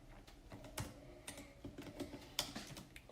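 Keys clatter on a computer keyboard as code is typed for a Django web app: quiet, irregular clicks and taps, close by and steady, with no voices over them.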